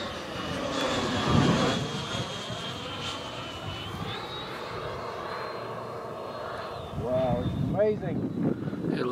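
An AeroFoam T-45 RC model jet flies past on its maiden flight, giving a steady rushing turbine-like whine that swells and fades outdoors, with wind buffeting and voices talking underneath.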